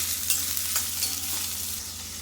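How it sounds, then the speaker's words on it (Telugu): Onions for chicken pulao fry in a pan under a lid, giving a steady, close sizzle with a continuous hiss and a few faint stirring scrapes. "గోల్డెన్ బ్రౌన్ కలర్ వచ్చేంతసేపు మూత పెట్టుకొని వేయించుకుందాం"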